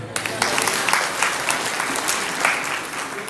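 An indoor audience clapping, a dense burst of applause with distinct hand claps, continuing steadily throughout with some voices beneath.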